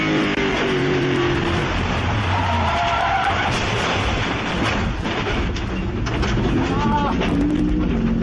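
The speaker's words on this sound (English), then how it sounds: "the Lexus is off, and it looks like it might have even hit the Armco barrier" Race car, a Lexus, runs off the track with a loud, continuous roar of engine and tire scrub mixed with rumbling wind, and may strike the Armco barrier; the noise stays dense and close, with commentary underneath.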